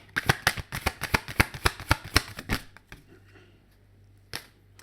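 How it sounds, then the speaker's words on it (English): Tarot cards being shuffled and pulled from the deck, a fast run of about fifteen sharp, close riffling snaps over two and a half seconds, then near quiet with a single crisp card flick near the end. "Actually, I'm going to pull 2 cards."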